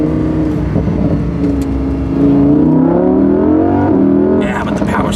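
A Lamborghini Huracan 580-2 engine revs up loudly and climbs in pitch, holding a strong exhaust note before easing off, with a brief burst of other noise at the end.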